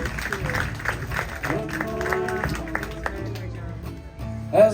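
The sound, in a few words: audience applause for performance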